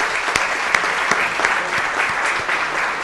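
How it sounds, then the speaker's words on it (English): Steady, dense applause from an audience at a city council meeting, sustained and fairly loud throughout. "Let's give them a big round of applause."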